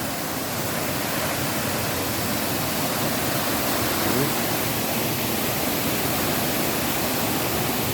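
A steady, dense roar of a waterfall in deep forest fills the space, constant and close, with no other sounds standing out.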